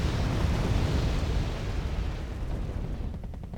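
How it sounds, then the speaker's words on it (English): Bombs exploding in the multiplayer war game Wargame: Airland Battle, a continuous roaring wall of heavy blasts and rumble, loud and dense throughout before easing slightly at the end. "Bombs everywhere. Lots of bombs."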